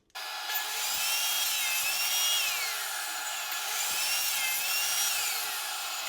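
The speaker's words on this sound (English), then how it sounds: "We'll take our first cut with the bottom piece as a guide" A saw cuts through an oak board guided by a miter gauge, starting abruptly and holding a loud, steady high-pitched whine with slight wavering pitch as the blade works through the wood.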